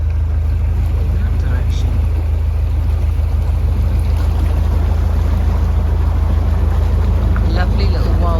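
A narrowboat on the River Thames swings its bow round in a full turn, its engine a steady low drone under constant wind rumble, with a voice speaking briefly.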